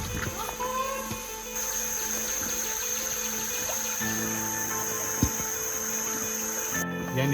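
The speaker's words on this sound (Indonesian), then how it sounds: "Ini sungai kecil yang airnya masih sangat jernih." Small, clear forest stream in Kinipan flows softly as a faint steady trickle, with constant insect buzzing and chirping over it and a few brief knocks.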